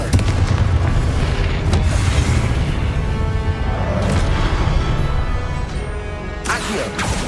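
Confringo fire spell explosions in Hogwarts Legacy, loud, dense booming blasts layered over a constant rumbling battle din, with sharper bursts recurring through the stretch.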